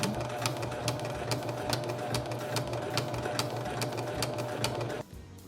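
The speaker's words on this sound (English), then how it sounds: "I was able to then use the actual sewing foot and hold everything in place as I was sewing" A sewing machine stitches a satin bonnet with a steady, fast mechanical patter and regular clicks, running continuously at close range before stopping abruptly near the end.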